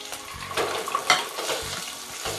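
Onion, tomato and ginger garlic paste sauté in hot oil, giving a soft, fairly quiet sizzle broken by a few spatula stirs and scrapes.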